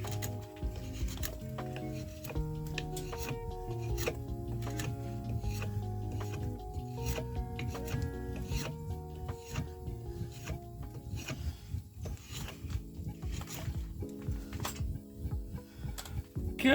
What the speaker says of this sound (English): if y'all thinking about doing some at-home woodworking, get you a draw knife. That works amazing.